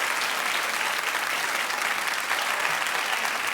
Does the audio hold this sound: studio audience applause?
yes